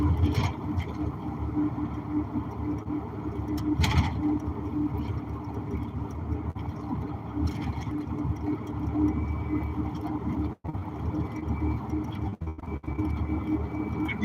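A car being driven, with a steady low engine hum and road rumble from inside the cabin, continuous and moderately quiet, with a couple of brief dropouts.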